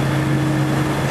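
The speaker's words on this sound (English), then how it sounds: "I get to hear everybody's exhaust bumping in the tunnel now." Car exhausts rumble inside the 7th Street road tunnel, heard from within a big truck as a steady low drone with a sustained hum, enclosed and continuous.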